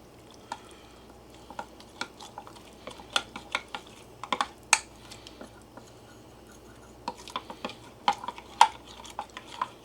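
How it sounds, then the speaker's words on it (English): A spoon stirs cornstarch and cold water into a slurry in a small container, making quiet, irregular clinks and scrapes in short bursts close by, with no talking. "I'm just going to mix that up until it's a nice slurry."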